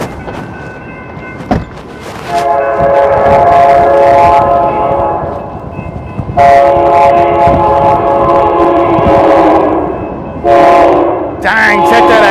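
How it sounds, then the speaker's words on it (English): A passenger train near Snyder, Texas sounds its horn in loud sustained blasts, three separated bursts over steady rumbling wheel and rail noise as it speeds past close by. "Passenger train, that was freaking sweet right there."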